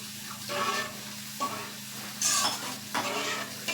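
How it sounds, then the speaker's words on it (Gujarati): Half a glass of water poured into sev usal gravy simmering in a pan, giving a loud bubbling sizzle with stirring scrapes and a few brief bursts of hiss, close by. "તે અડધો ગ્લાસ પાણી એડ કરી લેશું"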